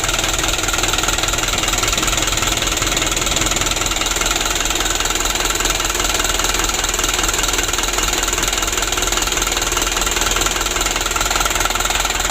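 A Hino Dutro 130 HD truck from 2016 idles nearby, its diesel engine running loud and steady with a rough, knocking rhythm that continues unbroken throughout.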